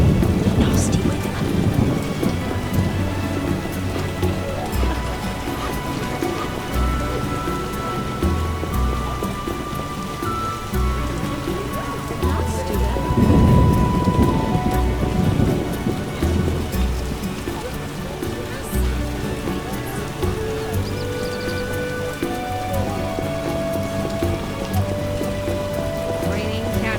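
Heavy rain and rolling thunder from a stormy scene in the video game The Witcher, a steady downpour with deep rumbles swelling midway, while a voice speaks briefly over the weather.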